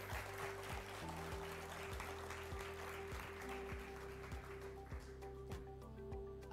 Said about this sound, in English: a round of applause for yourselves also for building amazing prototypes